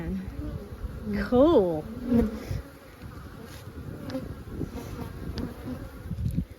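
Honey bees buzz steadily around an opened hive with natural comb on a medium frame, a dense close drone under brief talk and a short exclamation.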